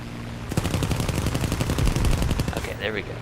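Aircraft guns hammering in rapid sustained bursts in War Thunder air arcade combat, a dense steady rattle of shots for a couple of seconds, loud and close over engine drone.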